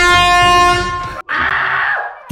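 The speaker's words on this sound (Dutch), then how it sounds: "ik moet weer toeteren" Loud air horn blasts during a game of hide-and-seek with police, a long sustained harmonic honk followed after a brief gap by a second rougher blast.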